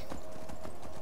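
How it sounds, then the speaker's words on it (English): Horse hooves in the Skyrim video game clop in a quick, steady rhythm, several evenly spaced thuds over a continuous low game background, close and moderately loud. "Get back on the horse."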